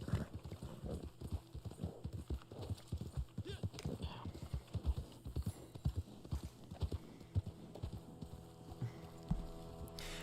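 Horse hooves clip-clopping in the Red Dead Online video game, a steady close rhythm of hoof strikes on the ground under a low hum, with talking over parts of it.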